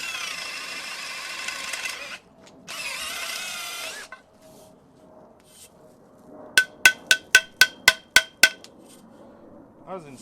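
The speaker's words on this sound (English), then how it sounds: "I guess I'll run a piece of rebar or something through it." A piece of rebar knocks packed material out of a HEIN WERNER floor jack with about eight sharp, evenly spaced metallic clanks near the end, following earlier bursts of harsh grinding noise.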